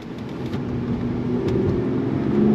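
Engine roar of a 2013 Hyundai Genesis Coupe 3.8 Track accelerating on a race track, a rising hum building steadily and getting louder toward the end, with no talking.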